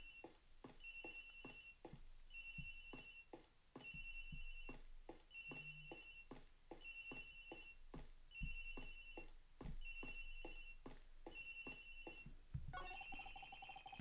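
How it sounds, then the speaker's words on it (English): A cell phone ringtone playing a gentle lullaby melody in the Ace Attorney Investigations game, aboard an airliner, repeating in regular phrases, fairly quiet and alone, with a brief shift in tone at the end. "It sounds like the phone is up in the flight attendant's room."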